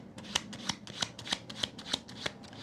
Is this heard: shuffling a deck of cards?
yes